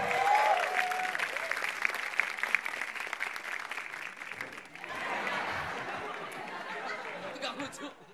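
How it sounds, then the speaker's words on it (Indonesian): Studio audience at a televised stand-up comedy open mic applauds warmly and steadily for the full stretch, with scattered chatter and light laughter mixed into the clapping. "Kita beri tepuk tangan yang meriah untuk Rico Ceper."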